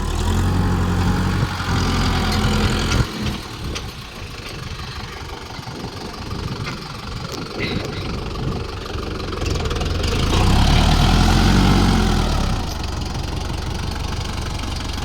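A used Euro 45 hp tractor from 2019 idles steadily up close, its diesel engine chugging with a continuous knocking rumble that rises slightly in loudness near the end, with no talking.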